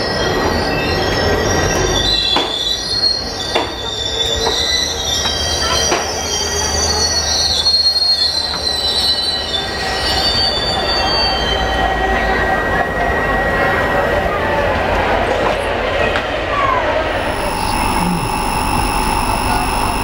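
The Nandigram Express rolls along Indian track with its wheels squealing, a loud continuous rumble of rail cars layered with shrill metallic screeches that shift in pitch, heard close from onboard.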